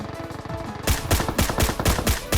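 Rapid gunfire from SKS and Saiga weapons on PUBG's Erangel map: a burst of about eight loud, close, evenly spaced shots that breaks in suddenly after a quieter rumble, with no voices.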